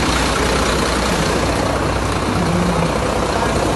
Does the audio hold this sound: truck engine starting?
yes